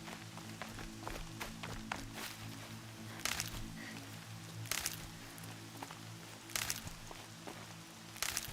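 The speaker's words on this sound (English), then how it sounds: "Rain's not so bad." A steady, hissing rain patter in the video game Horizon Zero Dawn, with scattered sharper taps and a few louder swells, over a low droning background hum.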